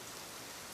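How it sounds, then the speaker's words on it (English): Steady rain falling, a soft continuous hiss of drops on a surface, faint and even throughout with no voices. "But I could still hear the rain, faintly."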